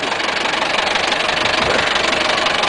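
A tractor engine idles in a village in Kars, a loud, close, continuous chugging rumble with a fast steady knock and no voices.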